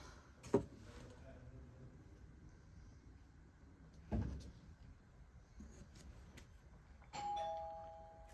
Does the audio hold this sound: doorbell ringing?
yes